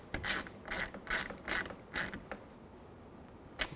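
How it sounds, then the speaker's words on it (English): Ratcheting wrench snugging and tightening the mounting nuts on a replacement passenger side view mirror for a 2011–2014 Chrysler 200, a run of five quick rhythmic clicking bursts followed by a pause and one final click, close and alone. "I'll take my wrench and just snug this one up and tighten these ones"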